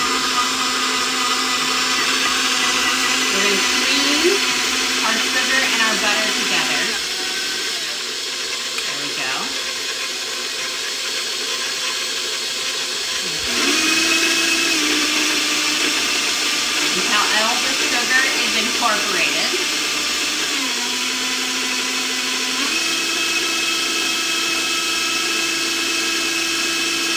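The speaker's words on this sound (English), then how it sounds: "We're gonna cream our sugar and our butter" An electric mixer creaming sugar and butter whirs loudly and continuously nearby, its motor pitch shifting up and down as the speed changes, with a voice speaking over it at times.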